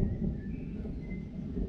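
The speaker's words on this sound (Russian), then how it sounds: "Ух, какой гром." Thunder during a summer storm at an outdoor bathing spot, a low, soft rumble rolling on steadily in the distance with no voices over it.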